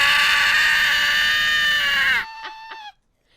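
A person imitates a primal scream: one long, loud, sustained vocal howl that cuts off abruptly, followed by a couple of short, quieter voiced yelps before silence.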